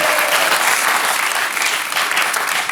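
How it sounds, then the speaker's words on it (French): Studio audience applauding a guest on a French television talk show, a dense, loud burst of clapping that stays steady and close throughout, with no talk over it. "On peut l'applaudir très très fort"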